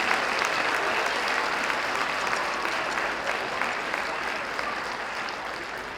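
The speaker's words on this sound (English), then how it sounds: "How about a round of applause for these wonderful young student musicians?" Audience applause fills a 2022 elementary school spring concert, a loud, dense and steady wash of many hands clapping for the student musicians that holds evenly for the full six seconds.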